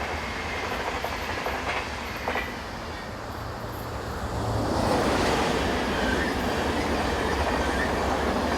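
A TGV high-speed train rushes past with a broad roar that builds and stays loud, wheels rumbling on the rails; no voices.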